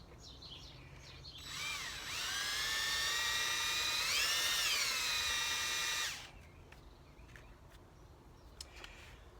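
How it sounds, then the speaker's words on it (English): Power drill boring a small pilot hole into a carburetor on a 292 engine ahead of tapping threads, a steady high-pitched whine lasting about four seconds with a slight pitch dip midway, then cutting off to quiet. "Then we'll drill our hole for the tap."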